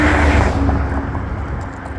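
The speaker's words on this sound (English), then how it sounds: "You can see cars are just unrelenting coming always." Cars pass steadily on a busy suburban street beside a homestead yard, a loud continuous traffic rush that gradually eases, with no voices.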